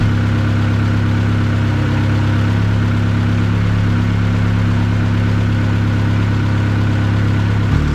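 A turbocharged Honda Civic engine idles in a steady, loud, close drone with a deep even hum, running unchanged until a slight shift at the very end.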